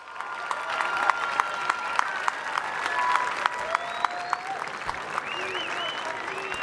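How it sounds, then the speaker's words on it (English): Crowd applause rolls steadily through the stands at an all-star high school football game in the Rio Grande Valley, sustained clapping with a few sharp claps and whistles on top, while an announcer's voice carries faintly over it. "Let's give them all a round of applause."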